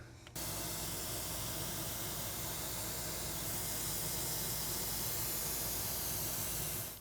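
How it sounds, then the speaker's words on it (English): An airbrush sprays blue paint onto foam in a close, continuous airy hiss that starts abruptly and holds steady for several seconds before trailing off, with no voices. "Let's go to the airbrush and paint these things."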